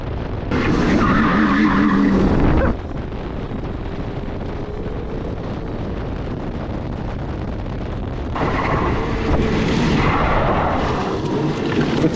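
An electric drift kart with sticky tires flings up rocks outdoors, a harsh rushing roar with gravel spray and wind buffeting the microphone, louder at the start and end.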